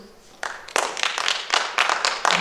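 An audience at the Intermedium 2020 award ceremony for a dance competition starts applauding, a few scattered claps at first, then denser, overlapping clapping from a small crowd that stays steady and moderately loud.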